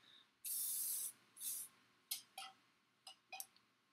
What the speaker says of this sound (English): spray it in the ends of your hair